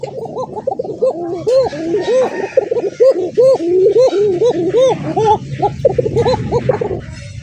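Gola Giribaz pigeons coo loudly in an open outdoor spot, with close, repeated rolling coos in quick succession. Someone talks at times underneath.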